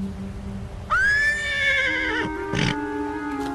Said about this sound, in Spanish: ¿No ve que pone nervioso al caballo?